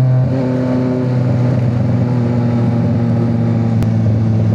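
A big motorcycle engine rumbles steadily nearby, holding a deep, even tone at a constant revving pitch throughout, with one brief click partway through.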